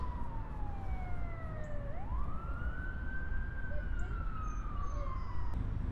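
Busy outdoor street scene with traffic noise and a helicopter overhead, dominated by a police siren wailing and sweeping in pitch as a vehicle passes, steady broadband rumble throughout, moderately distant.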